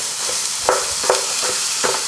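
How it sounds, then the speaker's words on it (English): Ground meat sizzles steadily in a hot pan, a constant crackling hiss with a few louder pops and stirs. "Your meat should sizzle right as you put it into the pan."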